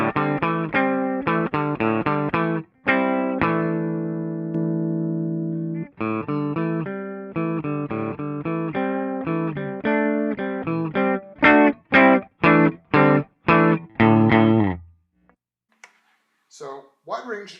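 Electric guitar with overdrive played through an amp attenuator: a sequence of chords and single notes, some held and some clipped short, shifting in grit and loudness with playing dynamics, ending in quick choppy stabs and then a brief silence.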